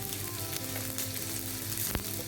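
Curry leaves sizzling in hot oil while cooking Chicken 65, a steady close frying hiss and crackle throughout with one brief sharper pop near the end.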